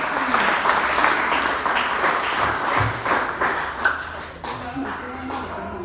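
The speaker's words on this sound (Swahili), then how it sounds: "Mpigie makofi mpaka afike hapa" A church congregation claps in sustained applause during a Swahili service, dense hand-claps filling the room under a speaking voice, thinning slightly toward the end.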